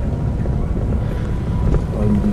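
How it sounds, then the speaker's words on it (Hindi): Steady low rumbling buffeting of wind hitting a microphone, loud and continuous throughout with no speech. "हवा चल रही है, शायद आपको विंड ब्लास्ट आ रहा हो"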